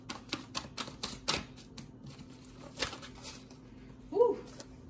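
Tarot cards being shuffled, a series of crisp flicks and slaps close by in an uneven rhythm, with a brief vocal sound near the end.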